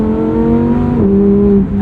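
A Lamborghini Huracan Technica in sport mode with paddle-shifted manual gears sings a loud, close, sustained engine note that holds steady and then steps to a new pitch partway through.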